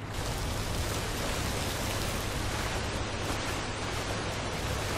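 Waterfall in Skyrim, a steady, dense broadband rush of falling water at constant loudness, close and continuous with no talk over it.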